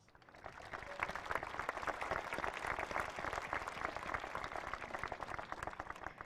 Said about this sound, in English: I invite the class of 2021 to give their teachers a round of applause